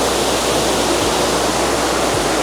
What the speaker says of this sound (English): See, this is the rainfall,